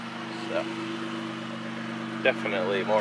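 A 2014 Dodge Charger V6 with a Spectre cold air intake idles steadily with a low, droning exhaust note, while a person talks briefly over it.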